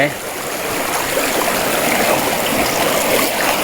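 Fast, rushing stream water flowing strongly on the way to a waterfall near Kaeng Khoi, Saraburi, Thailand, a loud, close, continuous broadband wash.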